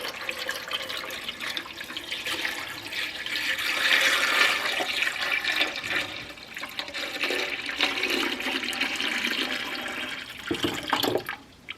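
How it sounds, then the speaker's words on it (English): Cold tap water gushes steadily into a large canning pot holding jars, a continuous splashing pour that swells and shifts in pitch as the level rises, close and fairly loud with no talk. "I want to put my water in, and I'm only going to put it in here till it's kind of halfway up on the jars"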